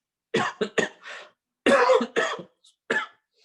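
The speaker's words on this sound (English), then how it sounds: "it's not a COVID cough, it's a normal seasonal cough" A series of harsh coughs in two bursts, close to the microphone, with a brief pause between them and a final single cough.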